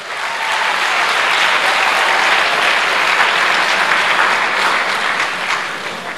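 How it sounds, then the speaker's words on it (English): Sustained applause from a large audience fills a lecture hall during an Africa Day lecture, steady and loud throughout with no gaps. "Let's give him another big round of applause."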